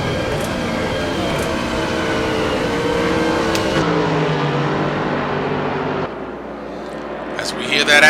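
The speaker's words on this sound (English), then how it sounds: "That Aston Martin downshifting through the gears and back up through the gears." Aston Martin race car at Monza in a racing video game, engine droning as it downshifts and climbs back up through the gears, with a commentator talking over it.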